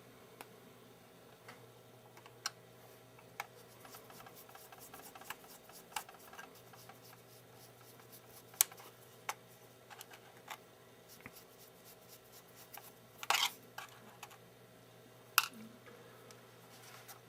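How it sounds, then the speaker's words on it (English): Small screws are worked loose from the case of a Canon PowerShot SX50 camera during disassembly, giving faint, sparse metallic ticks and clicks from a close screwdriver in a quiet room. "We'll start by removing the three screws on the left side."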